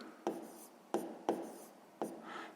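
A math calculation is written out by hand in four crisp, separate strokes, each a quick scratch against the surface, spaced unevenly in a quiet room.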